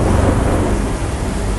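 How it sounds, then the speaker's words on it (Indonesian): Heavy tropical rain pours in a dense, steady roar around a vehicle, loud and continuous, with low rumbling mixed in and no voices. "Ini udah deras banget ya hujannya."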